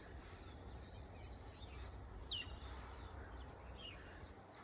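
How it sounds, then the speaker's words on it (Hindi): Birds chirp on a village morning, faint scattered tweets over a soft bed of insect-like buzzing and low rumble, distant and quiet with no voices. "सारी चिड़िया के चहकने की आवाज़ आ रही है।"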